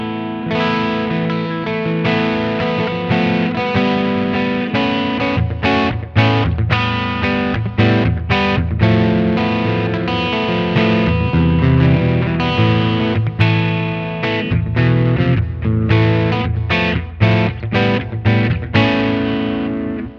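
Electric guitar driven through an Artemis overdrive pedal, a Klon Archer clone, on a pedalboard, playing a continuous busy passage of gritty, crunchy chords and riffs for about twenty seconds with no talking.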